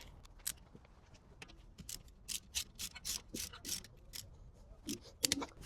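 A torque wrench being adjusted for a BMW i3 wheel bolt gives a series of quiet, sharp ratcheting clicks in uneven bursts, close and faint, with no talking.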